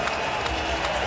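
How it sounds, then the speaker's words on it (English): Stadium crowd at a CFL football game between the Calgary Stampeders and Ottawa Redblacks in Ottawa, applauding a quarterback taking over; a steady, broad wash of clapping and crowd noise that fills the whole stretch. "gives him a round of applause."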